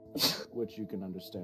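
A single sharp sneeze bursts out near the start, loud and breathy, and a voice keeps talking right after it.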